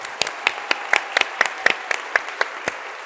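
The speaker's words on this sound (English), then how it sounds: "Another round of applause for our honorees." An audience claps for honorees at a Woman of the Year awards event, a steady room-filling round of applause with distinct individual claps standing out.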